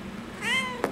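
A pet cat gives a single short meow indoors, close and fairly soft, followed by a brief faint rustle.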